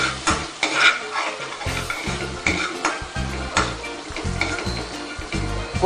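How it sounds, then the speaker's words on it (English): Ginger, garlic and green chili sautéing in a pan for pav bhaji, a close sizzle broken by repeated scraping and knocking of a spoon as the mixture is stirred, with no voices. "Cook until the raw flavor of ginger and garlic is gone."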